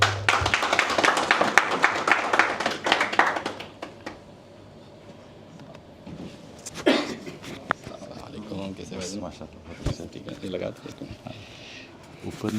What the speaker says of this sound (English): let's give a round of applause to our next speaker